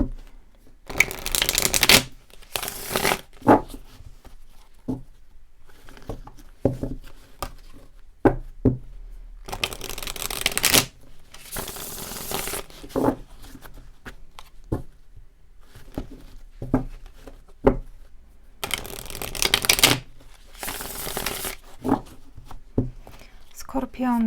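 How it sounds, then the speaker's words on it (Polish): Tarot cards are shuffled and laid out on a table in repeated bursts of close, crisp riffling and flicking, separated by soft taps and placing sounds, while a voice talks quietly through the pauses. "Najpierw rozłożymy wszystkie karty, moi drodzy, a potem e, będziemy interpretować"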